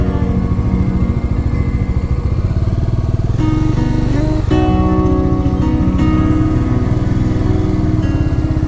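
A motorcycle on a monsoon bike trip in the Ajodhya Hills rumbles loudly and steadily up close, its engine note shifting briefly as it slows to park.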